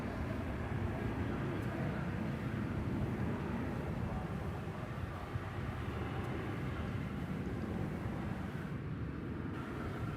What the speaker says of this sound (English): Here goes a 737 off to Houston Intercontinental.